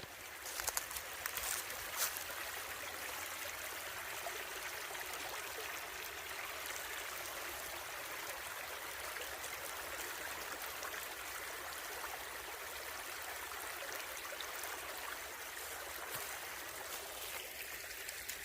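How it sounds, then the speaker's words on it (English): A creek flows steadily along a wooded hiking trail on the Broad River Greenway, a constant broadband rush of running water that stays even and moderately close from start to finish, with no voices over it. "The water's flowing in the creek."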